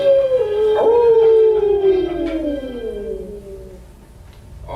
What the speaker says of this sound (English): I do believe off in the distance I hear the howling of Cerberus